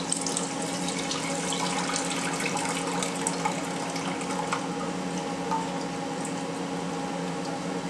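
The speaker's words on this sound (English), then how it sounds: "I'm going to add both cans of milk." Two cans of milk pour steadily into a warm pan on low heat, a smooth continuous liquid stream, close and moderately quiet, with no talking.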